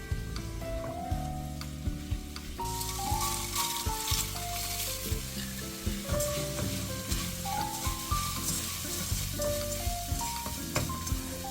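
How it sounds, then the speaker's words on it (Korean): Minced garlic sizzles in oil in a pan, a soft steady fry with light crackles, heard under background music with no talking. "다른 팬에 오일 두르고 다진 마늘 반 스푼 넣고 마늘 기름을 내요."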